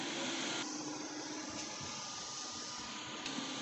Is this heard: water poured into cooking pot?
no